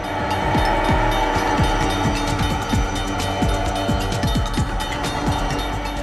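A train passes close by at a rail crossing, a loud steady rumble with rhythmic clickety-clack of wheels over rail joints repeating through the whole stretch, no voices.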